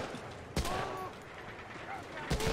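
Two sharp gunshots in Medal of Honor: Allied Assault, separated by almost two seconds, over a low background of game ambience with faint voices.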